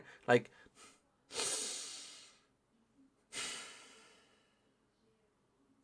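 Two slow, audible breaths, a deep inhale and exhale repeated, close to the microphone after a brief spoken word, demonstrating a person breathing normally at rest.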